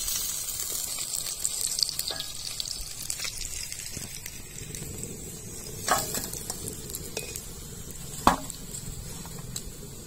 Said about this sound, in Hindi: दोस्तों मलगी मछली बढ़िया से हम तेल में छान ली है